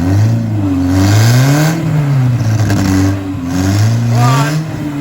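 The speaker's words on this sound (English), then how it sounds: "Now clutch it and go into second gear." A BMW E46 318 with a fitted hydraulic handbrake, its engine revving loudly and close up after a shift into second gear, the pitch rising and falling in repeated surges while a voice speaks over it.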